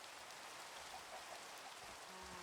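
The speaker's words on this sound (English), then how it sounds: "It's raining." Soft, steady rainfall patters across a Minecraft Skyblock world, a faint even hiss of drops with no voices over it.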